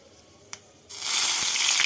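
Ginger-garlic paste dropped into hot oil for a mutton kofta curry, a brief click followed by a sudden loud, bright sizzle that holds steadily to the end.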